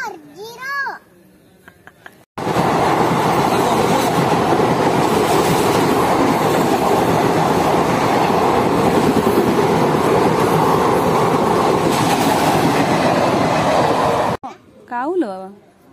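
An empty coal train rolls past on the rails with a loud, continuous rumbling clatter for about twelve seconds. A voice and other talk can be heard before and after it passes.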